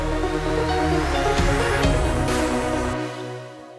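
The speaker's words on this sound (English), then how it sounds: "the first one we're going to do is just add a crash here" A crash cymbal sample hits in an FL Studio PsyTrance climax with a dense synth mix and a rising sweep, the wash of sound then cutting off near the end.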